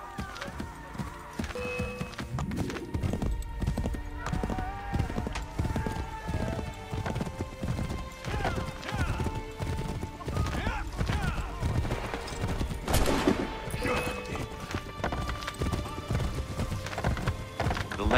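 Horse hooves galloping in the video game Assassin's Creed III, a fast, steady clip-clop rhythm close by with a brief whinny, under game music and occasional voices.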